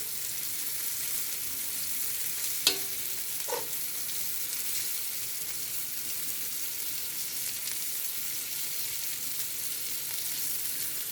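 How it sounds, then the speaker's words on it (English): Beef searing in a pot for stew, a steady broadband sizzle holding evenly throughout, with a couple of brief sharper pops or clinks near the start; no voices. "So you can see it's got that nice sear on it."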